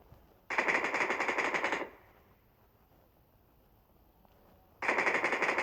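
Two loud bursts of rapid automatic gunfire in the PUBG video game, each lasting over a second, separated by a quiet pause.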